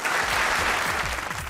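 Studio audience applause on a comedy talk show, a thick, loud wash of clapping with a low murmur of crowd underneath, sustained for a short burst.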